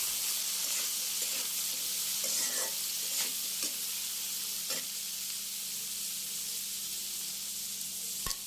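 Fried potatoes sizzle in a pan as peas, carrot and cauliflower are added for a winter-vegetable chow mein. A continuous hiss runs under scattered clicks and scrapes of stirring.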